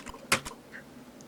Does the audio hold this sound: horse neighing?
no